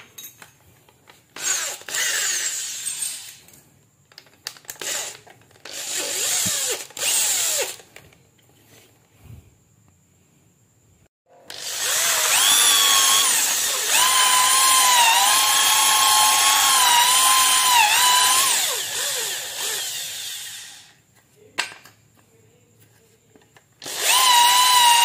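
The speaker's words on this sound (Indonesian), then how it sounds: "Langsung saja kita bor." Electric drill boring into wood in several short bursts, then one long steady whine lasting about eight seconds, loud and close, ending with another brief burst.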